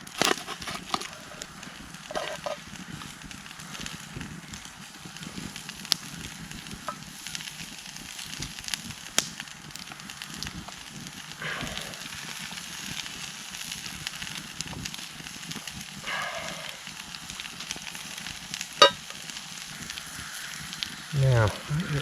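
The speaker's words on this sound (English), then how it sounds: "try and chop up some potato and cook some potato on the fire." Chopped potatoes cook over a woodland campfire, giving soft continuous sizzling and faint crackle with occasional clicks and knocks, fairly quiet and close throughout.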